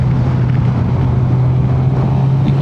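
Suzuki GSX-R 600 motorcycle engine braking on a ride: a steady, dense low engine drone with heavy wind rush, constant throughout and with no talk.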